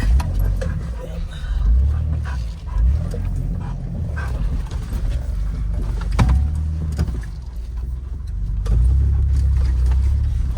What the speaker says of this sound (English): which hopefully with our shorter wheelbase, we can climb that back tire up onto that rock